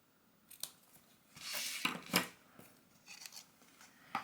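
Scissors trimming a paper ribbon loop on a card-making project: a few quiet, close snips and crisp cutting rustles spread over a few seconds.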